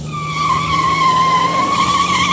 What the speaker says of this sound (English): you don't have to slam on your brakes